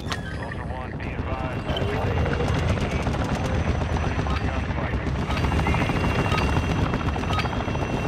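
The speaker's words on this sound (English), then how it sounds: "Ooh, that chopper's here." Helicopter rotor chop from a video game exfil arrives as a dense, steady thumping wash with scattered gunfire bursts mixed in, loud and continuous throughout.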